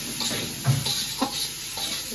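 Spice paste being stirred and sautéed in a pan, a soft steady sizzle broken by a few scraping stirs, fairly quiet and close.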